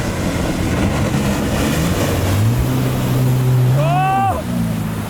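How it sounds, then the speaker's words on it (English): Strong wind buffets the microphone in a loud, steady low roar that runs the whole time, with people's voices rising over it now and then. "Oh, that fucking wind."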